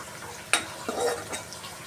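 Ginger paste is stirred into urad dal, chana dal and curry leaves frying in oil for poha upma, a soft sizzle broken by a sharp spoon clink and scraping.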